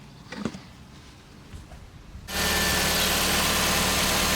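A Toyota Altezza with a 3SGE BEAMS engine idles after an oil change, its steady, even drone starting abruptly partway through and holding a loud, constant level after a quieter stretch of faint handling noise.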